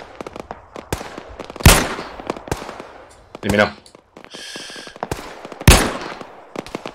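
Sharp gunshots in the video game Arma 3 crack out singly and in quick bursts, with a few loud reports standing out, while a voice speaks briefly in between.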